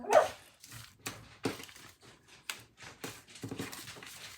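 A pit bull dog moving about a room indoors, giving short huffs, whimpers and soft bark-like sounds in a quick irregular series, fairly close with no talking.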